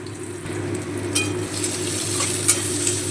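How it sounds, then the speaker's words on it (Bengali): Chopped carrots frying in hot oil for a vegetable dal, a steady close sizzle with a low hum beneath and a few light scrapes and clinks from a spoon in the pan. "এবারে কেটে রাখা গাজরগুলো তেলে দিয়ে দিচ্ছি"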